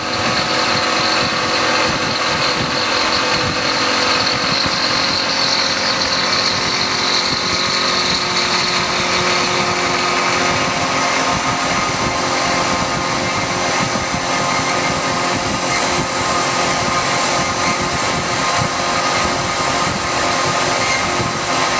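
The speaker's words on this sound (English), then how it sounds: "That's a 1/4 inch in hot rolled steel, 3/8 end mill." A 3/8 inch carbide end mill cuts 1/4 inch hot rolled steel on a machine, giving a steady, loud, continuous grinding whir with a faint high whine running throughout and no pauses.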